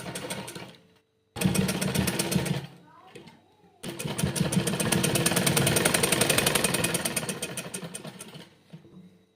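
A sewing machine stitches black fabric in rapid mechanical bursts, stopping and restarting, with a long steady run in the middle; a voice speaks between runs.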